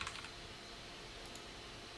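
Someone types code on a computer keyboard. Faint, quick keystrokes click steadily in a quiet room, with no voice.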